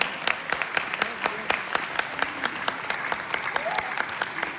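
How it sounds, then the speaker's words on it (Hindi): Audience applause at an Urdu mushaira poetry gathering, a dense, steady clapping from a crowd that continues throughout, with a voice speaking faintly under it. "जोरदार तालियां बजा दीजिए, जोरदार तालियां"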